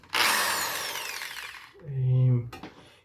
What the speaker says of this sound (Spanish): Y vamos a perforar.